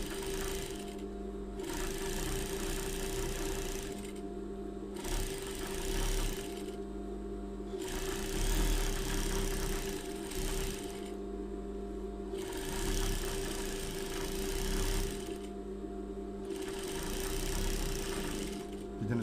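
A zigzag sewing machine runs in steady bursts of stitching as a seam is sewn twice, each burst a few seconds long with short pauses between, close and clear with no talking.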